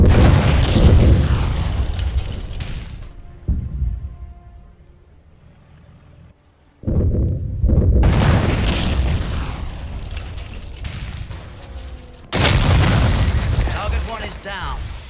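Demolition charges blow up an HQ building in Company of Heroes (Europe at War mod, Carpiquet map). Several heavy, loud booms and rumbling blasts come in bursts, separated by quieter stretches of battlefield noise.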